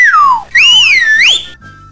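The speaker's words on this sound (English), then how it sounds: "what's this whistle?" A sliding whistle from a Roblox hide-and-seek game, its tone swooping down, then rising and looping through bright arcs over about a second and a half, loud and close, with a low game hum beneath and no voices.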